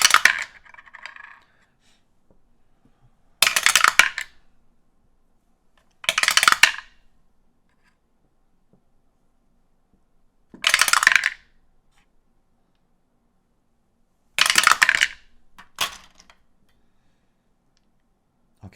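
Picture dice tumbling for a tarot reading, five separate bursts of clattering rolls spaced a few seconds apart, each rattling and settling quickly against a hard surface, with silence between and no voices.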